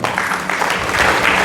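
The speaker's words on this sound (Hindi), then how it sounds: "एक बार जोरदार ताली," Audience applause at a sales seminar on closing techniques, a steady burst of clapping from a room full of people, fairly loud and continuous with no voice over it.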